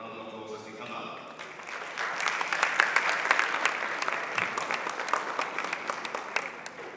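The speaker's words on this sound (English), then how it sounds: "Round of applause as they come up." A summit audience for small business owners and young CEOs in Ghana gives a round of applause, a dense crowd clapping that swells after a moment of voices and continues steadily, with talk underneath.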